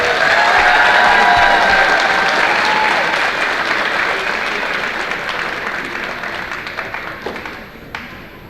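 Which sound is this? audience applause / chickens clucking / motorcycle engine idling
audience applause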